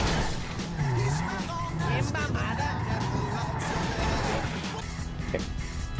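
Cars racing and skidding in the GTA video game, with revving engines and squealing tires running loudly throughout, over game sounds and voices talking.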